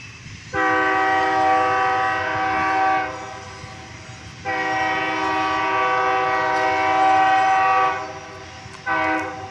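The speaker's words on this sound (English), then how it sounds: "but it's a Union Pacific freight train." A Union Pacific freight train passes in Altamont, Illinois, its multi-tone horn sounding in two long blasts and a short third one over a steady rumble of rail noise.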